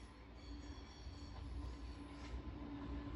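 An old former London Underground District line train runs on the Isle of Wight, giving a steady, fairly close rumble of wheels on rail with a faint high squeal held throughout.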